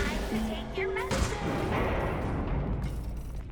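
Gunfire in the video game Secret of the Mimic, a loud booming shot followed by a rumbling tail, mixed with game sounds and a voice speaking briefly.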